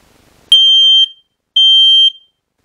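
A smoke detector set off by its test button gives two loud, piercing electronic beeps, each about half a second long, separated by a short silence.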